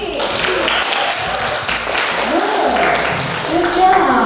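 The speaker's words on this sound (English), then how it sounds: "Okay, thank you, applause please." Classroom applause in a micro economics lesson: a short burst of many hands clapping together, fairly close and busy, with voices mixed in underneath.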